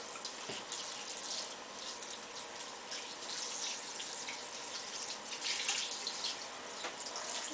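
A tap runs cold water steadily while an American Girl doll's hair is rinsed, giving a continuous hiss of splashing water with small surges and no voices.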